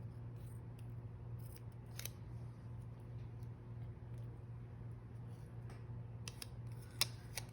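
Scissors trimming paper for an A5 Stalogy planner setup, a faint run of small snips and clicks close by, with a few sharper cuts near the end, no talking.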